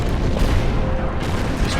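A unit firing on a T-28 tank in the Order of Battle strategy game, giving a heavy, continuous booming rumble like artillery, loud and dense throughout the short moment.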